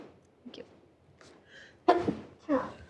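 A single sneeze breaks out during a planning commission meeting, sharp and fairly close, after a brief intake of breath, followed by a softer second burst amid quiet room murmur and faint voices.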